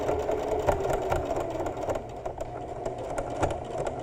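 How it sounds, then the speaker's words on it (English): A domestic sewing machine stitches slowly through several thicknesses of knit fabric at a shoulder seam, with a close mechanical whir and rhythmic needle clatter in short bursts. "Go a little bit slower when you're stitching through all the thicknesses there"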